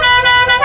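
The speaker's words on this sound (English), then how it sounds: "deafening the worker with an air horn" Single loud, blaring air horn blast held for under a second, harsh and tonal with slight pulsing, close to the microphone.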